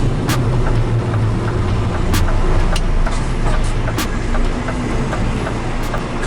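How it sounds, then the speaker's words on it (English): A car edges past a stopped truck on a narrow road, its engine and tyre rumble steady and close, with broadband road noise filling the scene and no talk. "Let me just let this car through."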